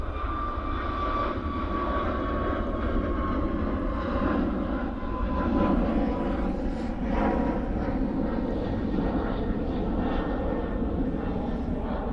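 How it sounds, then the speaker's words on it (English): A fixed-wing airliner departs Manchester Airport on a flight to Barcelona, its engines giving a loud, steady broadband roar that holds for the whole stretch without letting up. "That's the flight going to Barcelona."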